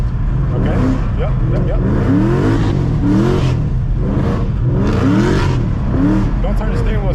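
A 700 hp Ford Mustang drifts, its engine roaring and surging in repeated rev swells under a constant loud cabin rumble. Voices talk over the engine noise.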